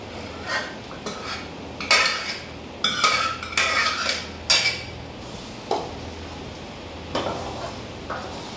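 A spoon stirs pav bhaji in a metal pan with repeated scraping and clanking strokes, roughly one every second, close and fairly loud over a faint background hiss.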